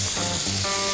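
Wallaby meat sizzles on a hot rock used as a frying pan in the Tasmanian outdoors, a steady, close, loud frying hiss filling the whole moment without any voices.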